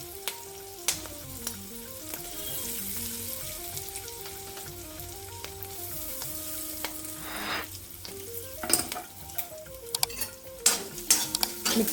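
Curry leaves sauté in a pan while a South Indian peanut sesame rice is made. A steady close sizzle and crackle runs throughout, with stirring scrapes and a few sharp clinks of utensils against the pan, and faint background music.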